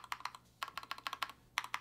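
Repeated presses on the split spacebar of a Skyloong GK61 Pro aluminum mechanical keyboard, producing close, crisp, evenly spaced clacks in quick succession with one brief pause, alone and without talk.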